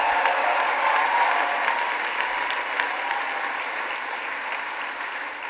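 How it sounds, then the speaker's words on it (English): A commencement audience at Bard College gives a long, steady round of applause for President Leon Botstein, a broad wash of many hands clapping that stays even and gradually softens. "Give him a great big round of applause."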